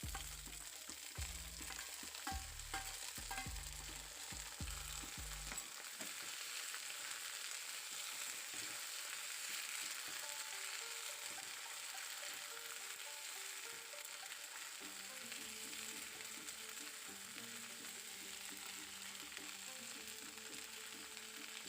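Long beans fry and get stirred in hot oil in a pan, a soft continuous sizzle under rhythmic clattering strokes of a spatula, fairly quiet and close with no talking.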